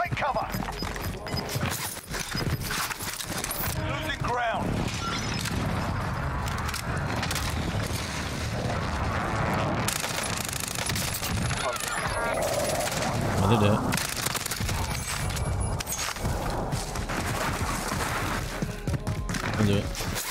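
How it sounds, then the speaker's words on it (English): Precision airstrike explosions in Call of Duty Warzone, a rapid barrage of heavy booms and rumbling impacts rolling on continuously while players talk over them. "Enemy precision airstrike. Take cover."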